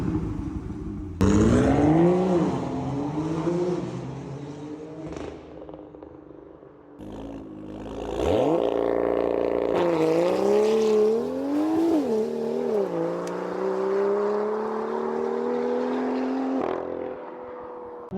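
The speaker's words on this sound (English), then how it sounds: "Now I'm going to throw up some clips here of more raw sounds of the car and even a stock" A stock-exhaust 2018 BMW M2 revs and accelerates loudly through several gear pulls, its engine note climbing, dropping and climbing again with short pauses between bursts.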